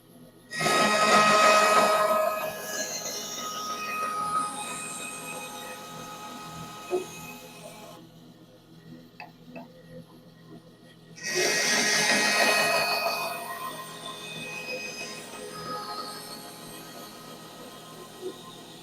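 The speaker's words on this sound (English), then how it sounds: "this is the final machining that we have to do on this piece" A power tool machines a wooden Langstroth beehive frame piece against a fence setup, with a loud high whining cut, a stretch of quieter motor hum, a brief near-silent gap, then a second loud burst of cutting.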